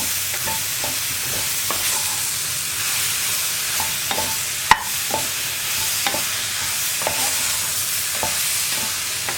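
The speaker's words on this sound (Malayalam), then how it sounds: "ഇതെല്ലാം ചേർത്ത് നന്നായിട്ടൊന്ന് ഇളക്കി മിക്സ് ചെയ്തെടുക്കുക" Soya chunks with salt stirred in a pan while cooking soya roast: a steady soft sizzle with repeated light scrapes of the spoon at a regular pace and one sharp knock near the middle. Nobody talks.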